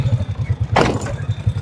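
Motorcycle engine during wheelie practice with a mistimed throttle, a steady pulsing low putter with a brief loud rev burst in the middle, close by.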